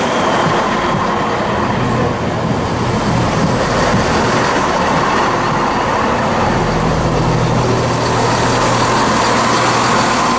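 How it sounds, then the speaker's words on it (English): A ScotRail Class 380 passenger train arrives at Croy station, rumbling loudly and continuously close by, a steady heavy roar of wheels and engine with no voices. "just coming in now is the 17:45 first ScotRail service from Stirling to Glasgow Queen Street"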